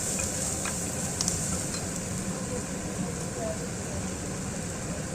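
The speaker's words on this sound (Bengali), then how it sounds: "মশলাটা ভালো করে ভেজে নিতে হবে।" Spices frying in a pan for a mild vegetable biryani, with turmeric and Kashmiri chilli powder, give a steady low sizzle and stirring scrapes throughout, with a voice talking over it.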